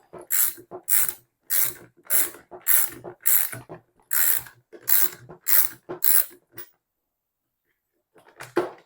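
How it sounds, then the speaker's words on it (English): A 5/8 inch socket wrench ratcheting a bolt loose during a Vibe X-Drive breakdown, about eleven loud, evenly spaced clicking strokes up close, then a pause before a couple more. "we're going to use a 5/8 inch socket wrench on this"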